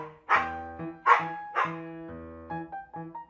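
A local dog in Nong Khai, Thailand, barks loudly and close by, giving a string of about six sharp, throaty barks in an uneven rhythm, with no talk over them.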